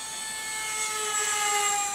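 An F-35 jet fighter making a very low pass gives a steady, high whining roar that swells gradually louder over the two seconds, heard alone without talk.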